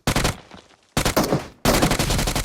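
Gunfire in the mobile battle royale game PUBG Mobile: three loud, rapid automatic bursts separated by brief pauses, with no talking.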